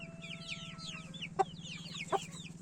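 Ten-day-old chicks cheeping in a dense, continuous chorus of high chirps close by, with a steady low hum underneath and two brief louder peeps standing out.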